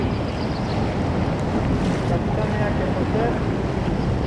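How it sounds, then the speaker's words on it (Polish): Ocean waves churning around a kayak off Benagil on the Algarve coast, a steady broadband wash with wind buffeting the microphone throughout, close and continuous with no talk. "Tu idzie fala, która nas wszystkich sprzątnie."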